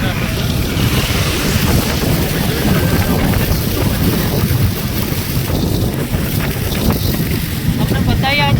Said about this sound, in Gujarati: હવે વરસાદ ચાલુ છે.